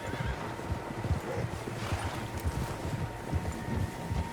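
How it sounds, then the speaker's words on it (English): Horses in the Red Dead Redemption 2 video game, with a loud whinny among steady clip-clop of hooves from several animals, and wind noise behind. "Horses, quite a few of them."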